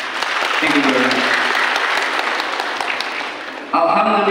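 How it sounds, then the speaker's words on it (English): Audience applause for scholar graduates at an academic-year ceremony fills the room as a loud, steady wash of clapping, with a voice speaking over it near the start and a brief musical tone at the end. "our round of applause for our scholar graduates, please."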